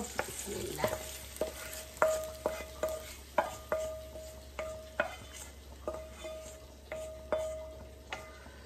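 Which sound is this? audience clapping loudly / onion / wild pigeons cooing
onion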